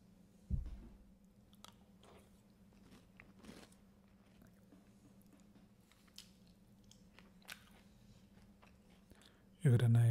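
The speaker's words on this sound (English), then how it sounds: "You get a nice crunchy sweet cinnamony flavor." Quiet crunching and chewing of crunchy cinnamon cereal close up, with a few soft bites and a louder clatter at the end.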